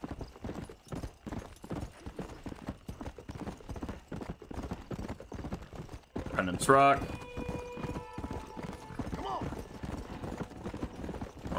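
Horse hooves clip-clop at a steady trot while riding in the Red Dead Redemption video game, with a horse whinnying partway through and people talking over the rhythmic hoofbeats.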